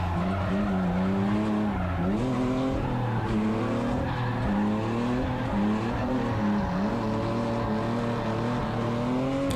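A stock-angle Hyundai Genesis Coupe drifting, its engine droning and rising and falling while the tires squeal continuously in long sliding skids, loud and close throughout with no speech.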